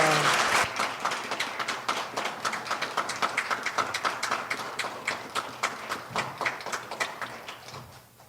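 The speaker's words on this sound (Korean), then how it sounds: "우리 목사님 나오실 때 할렐루야로 크게 박수 치면서 마주하겠습니다." Congregation applause at a Korean church service welcoming the pastor: dense, loud clapping from a crowd that surges early, then breaks into a brisk rhythmic beat and fades near the end.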